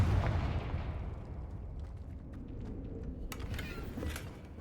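A Confringo blasting spell goes off in the Hogwarts Legacy game, a loud booming burst that fades into a sustained low rumble, with a few crackling flares later on and no talking.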